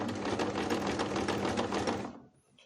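A sewing machine fitted with a walking foot and a knife attachment stitches a pillow cover in a fast, even, close-up rattle that stops abruptly near the end, leaving near silence.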